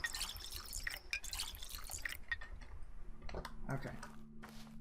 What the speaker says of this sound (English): Filling up water bottles.